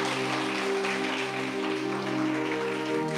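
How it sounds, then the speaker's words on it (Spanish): A Catholic congregation applauds the Lord during a service, a thick continuous patter of clapping like rain. A steady sustained tone hums underneath it the whole time. "Fuerte, fuerte, fuerte el aplauso al Señor."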